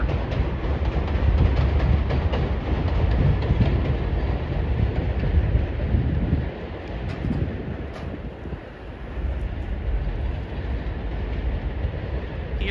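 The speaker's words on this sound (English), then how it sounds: "Sorry about the noise, the train is actually that loud." An elevated subway train roars past at Coney Island, Brooklyn, loud and close, with rattling wheels and gusty wind buffeting the microphone, then eases slightly before surging again.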